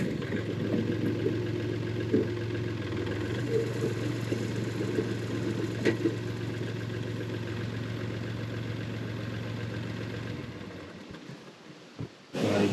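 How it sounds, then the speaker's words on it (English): The engine of a Woodland Mills WC68 wood chipper runs steadily with a low, droning hum and whir for several seconds, then drops away near the end, followed by a brief clunk. "I'm going to spin this up and it will spray out all the stuff in there."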